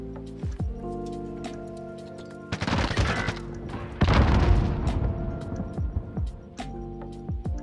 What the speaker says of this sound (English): Bomb set. Hold for detonation.